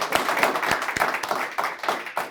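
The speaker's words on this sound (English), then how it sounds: "Can we get a round of applause?" Short burst of audience clapping after a panel discussion at a memorial summer speaker series, modest crowd with uneven, scattered claps close by, no voices over it.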